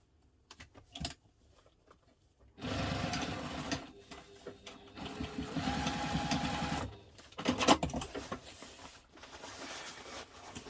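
Sewing machine stitching forward to reinforce a cut seam on a messenger diaper bag, with a few short taps at first, then two sustained loud runs of rapid needle chatter separated by a brief pause.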